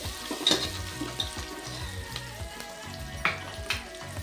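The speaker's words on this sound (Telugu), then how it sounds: "పచ్చిమిరపకాయలండి చీల్చుకొని వేస్తున్నాను 2" Slit green chillies fry in hot oil in a pan, a steady close crackling sizzle with a few sharper pops and scrapes of stirring, no voices.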